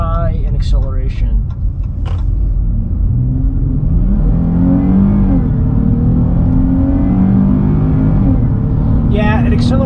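A 2022 Chrysler 300 S in sport mode accelerates hard, its engine note rising in a steady, loud drone with a low rumble beneath, heard from inside the cabin, with a voice speaking briefly at the start.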